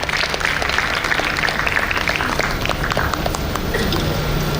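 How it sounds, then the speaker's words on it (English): Audience applause at a school's grand opening ceremony, a steady dense clapping from a large crowd that fills the whole stretch without pause. "Please give a huge round of applause for them."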